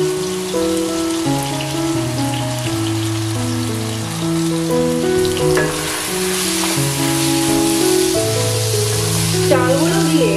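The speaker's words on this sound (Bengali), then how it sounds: "সবজির সঙ্গে চালগুলোকে প্রথমে মিডিয়াম ফ্লেমে প্রায় 2-3 মিনিট একটু কষিয়ে নিতে হবে।" Shyama rice and vegetables fry in a pan over a medium flame, a steady sizzling hiss running throughout beneath prominent background music.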